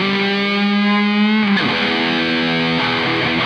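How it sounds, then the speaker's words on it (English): An electric guitar runs through an EVH amp with overdrive and distortion maxed plus phaser and delay, sounding a sustained held note that bends and shifts to a new pitch midway, loud and buzzy. "the overdrive and the distortion is all the way up"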